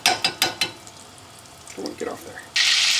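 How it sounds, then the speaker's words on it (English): Sage leaves hit a pan of butter and peanut and olive oil, giving a sudden bright, steady sizzle near the end, after a few sharp clicks and a short spoken remark. "We're going to fry up some sage here."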